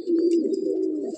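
A male Madrasi pigeon gives a single low, sustained coo close by in a loft, steady and moderately loud with no speech over it.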